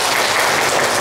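Brief, dense clapping from a room of people at a gathering of neighborhood party cell 3 in An Bien ward, loud and sustained for the full second.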